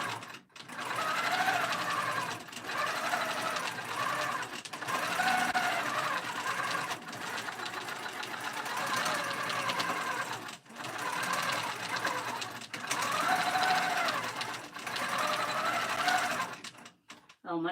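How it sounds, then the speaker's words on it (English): Longarm quilting sewing machine on a frame, stitching a quilted pillow top at 5 stitches per inch, runs in a steady rhythmic whir with brief pauses and restarts throughout. "So now I'm at 5 stitches per inch, which is a lot better. Smoother."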